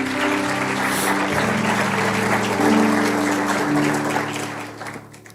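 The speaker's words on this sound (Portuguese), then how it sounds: "Diga amém e aplauda ao Senhor Jesus." A church congregation applauds, a dense wash of clapping that holds steady at full volume and then fades out over the last second.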